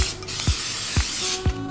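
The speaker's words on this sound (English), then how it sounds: "now with non-stick spray, spray your pan." Non-stick aerosol cooking spray hisses steadily into a pan for a couple of seconds, broken by three dull low knocks.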